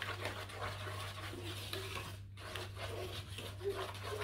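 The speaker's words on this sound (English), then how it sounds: "And you mix again." A spoon rubbing and scraping through wet carrot muffin batter in a bowl, soft repeated swishing strokes over a low steady hum, with one brief pause.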